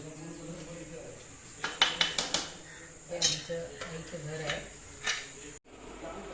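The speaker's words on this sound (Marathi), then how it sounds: "मम्मीकडे आंबा कापायला लागले" A knife cuts mango on a board in a family kitchen in Rangaon, Vasai, with a handful of sharp clicks and taps in quick bursts, close by, over background talk and a faint steady hiss.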